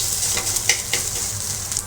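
Vegetables for chowmein sizzle and crackle in a hot pan, with a close, steady frying hiss and a few sharper pops as they are stirred.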